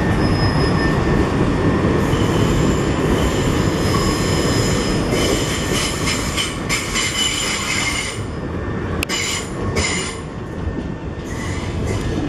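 A Southeastern train rolls steadily past on the rails at London Waterloo East with a constant rumble, faint wheel squeals and a few sharper metallic clicks; no voices.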